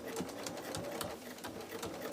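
A sewing machine stitches a quilt in a fast, steady rhythmic whir and tapping, close by and fairly quiet, running without pause.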